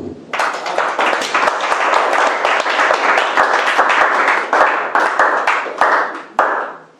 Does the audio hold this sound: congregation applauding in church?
yes